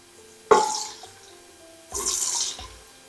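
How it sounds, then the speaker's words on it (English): Onions sizzle in hot oil for Cameroonian jollof rice, with two bursts of frying hiss, a sharp one that fades and a second steady one, close and fairly quiet, with no talk. "So I'm gonna fry this for 1 or 2 minutes. Onion for 1 or 2 minutes."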